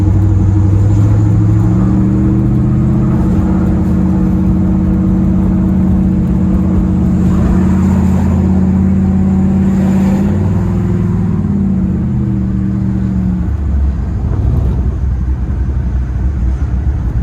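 A car freshly fitted with new aftermarket tires in place of the stock wheels drives along a street, with a loud, steady engine drone rising and shifting in pitch as it accelerates, then settling lower near the end.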